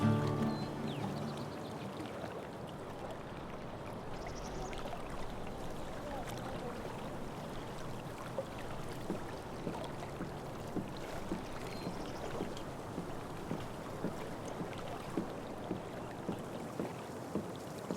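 Kayak paddling in Life is Strange: True Colors, a steady wash of water with soft rhythmic paddle strokes dipping and splashing at regular intervals, close and gentle, with light ambient flow throughout.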